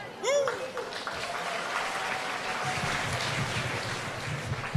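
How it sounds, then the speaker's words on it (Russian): A festival concert audience in Jurmala applauds, a broad dense wash of clapping that carries on steadily, with a brief whistle or squeal near the start and crowd noise mixed in. "Движение – это жизнь, поэтому смело хлопайте ручками, ножками топайте."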